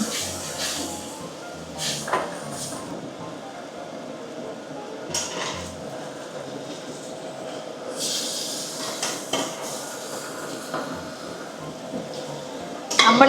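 Beef curry with garam masala is stirred in a clay pot, with scattered clinks and scrapes of a utensil against the pot over a soft sizzle, while a person speaks now and then.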